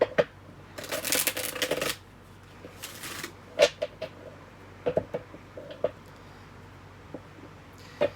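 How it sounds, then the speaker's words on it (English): Tarot cards being shuffled by hand in a quiet room, two long riffling bursts followed by a scatter of soft taps and flicks as the deck is handled and cards are laid down, close and clear with no talking. "we're just going to pull 3 cards for the element itself, for Earth"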